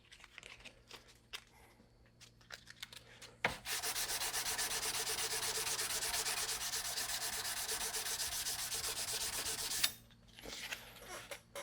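Close, quiet scratchy rasping of sandpaper worked by hand along a chef's knife blade: a few light strokes, then several seconds of continuous rubbing, then a few more scattered strokes.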